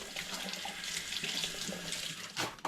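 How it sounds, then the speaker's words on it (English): Running kitchen tap water splashes steadily over rhubarb sticks being rinsed in a sink, a continuous close hiss with a brief louder gush near the end. "I'll just give them a rinse under the tap."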